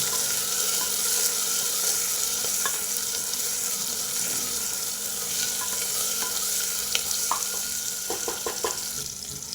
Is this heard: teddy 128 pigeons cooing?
no